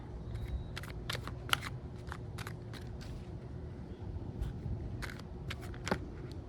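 Cards being shuffled by hand, a run of quick riffling bursts and soft snaps over a steady low background hum, no talking.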